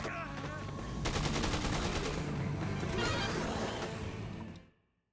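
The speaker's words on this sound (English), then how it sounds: "He keeps shooting me." Enemy gunfire in Dead Rising 2 Off the Record, a dense, continuous rattle of rapid shots over loud game noise, ending abruptly as everything cuts to silence.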